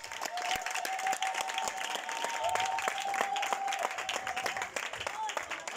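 Sustained crowd applause at an evangelical funeral vigil in Daloa, steady clapping throughout with voices singing or talking over it.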